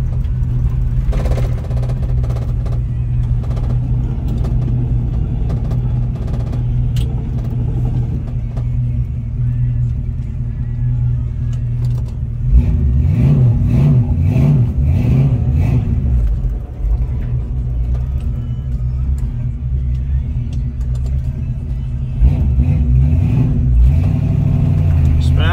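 A 1967 Ford Mustang with a 289 V8 cruising on the road, its engine a steady low rumble with cabin and road noise, swelling briefly as the throttle changes, while someone talks over it.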